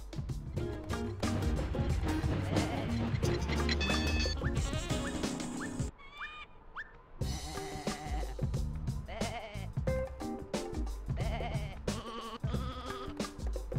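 Sheep bleat repeatedly in the video game Sheep Dog 'n' Wolf, mixed into busy game music and effects that run almost without pause, with a brief quieter gap midway.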